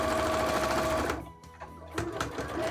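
A sewing machine top-stitches fabric for a cosplay, a close, loud, rapid mechanical whir that runs steadily, pauses briefly, then starts up again.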